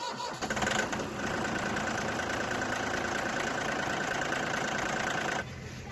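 An old engine keeps up a steady, loud rumbling drone for several seconds after a fresh battery goes in, close by, cutting off abruptly near the end, no talking.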